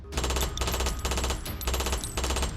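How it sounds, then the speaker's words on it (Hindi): Loud, close automatic gunfire exchanged from both sides comes in three or four sustained rattling volleys with brief gaps between them. "दोनों तरफ से गोलियां चलने लगी।"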